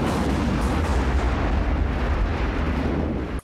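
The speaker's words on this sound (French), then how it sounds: "tout ça va se terminer par une grosse explosion, où Jason va bien sûr mourir." A large explosion in the 1993 horror film Jason Goes to Hell roars as a dense, sustained rumbling blast, loud and continuous for several seconds before cutting off abruptly.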